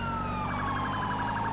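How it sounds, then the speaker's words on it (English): Police car siren in GTA 5 during a sheriff patrol, a rising and warbling wail with a fast yelp pattern over steady traffic rumble, brief and fairly close, no talk. "Why did he turn on his siren?"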